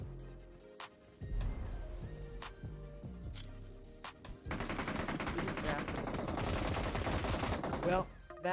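Rapid automatic gunfire bursts and scattered single shots crack through a PUBG Mobile duo tournament match, with sharp repeated reports building into dense continuous firing in the second half, over faint game ambience.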